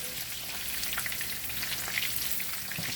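Ritz cracker breaded shrimp frying in hot oil, a dense steady crackle and sizzle with small popping bursts, close and fairly quiet throughout, no voices.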